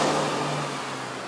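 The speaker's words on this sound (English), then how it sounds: "Like that car that just passed by me." Car driving past outdoors, a brief engine whoosh that fades as it moves away, with a slight drop in pitch and no speech.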